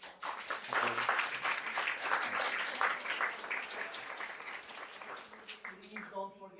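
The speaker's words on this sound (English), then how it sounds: "give a round of applause to Emmanuel" An audience applauds a speaker at the close of a Women Techmakers Berlin JavaScript crash course lecture: a few seconds of dense clapping that swells early, then thins and fades.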